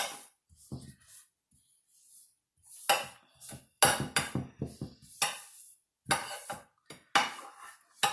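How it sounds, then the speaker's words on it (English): Brown sugar is smeared over bacon with a utensil, giving irregular close clinks, taps and scrapes in short bursts with brief quiet gaps between them. "now I'm just going to take it and I'm going to smear it out"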